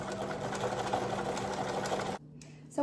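A sewing machine hums and stitches steadily while sewing around dress sleeves from a Simplicity 3130 pattern, a close, even whir that stops abruptly near the end before a brief faint sound.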